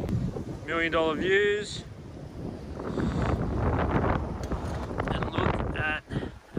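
Wind gusts buffet the microphone in a steady rush while people talk over it at a campsite at Glenbawn Dam.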